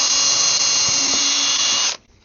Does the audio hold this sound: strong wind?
no